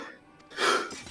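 A Final Fantasy XIV game character sneezes once, a short soft intake followed by a brief, bright burst at moderate level, alone without talk.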